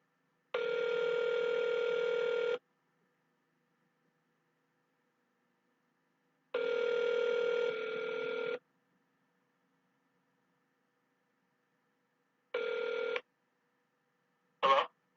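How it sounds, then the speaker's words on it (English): An outgoing phone call rings back on the line, three clean repeated ring tones separated by long silences, followed by a brief click as the call connects. "It's ringing again."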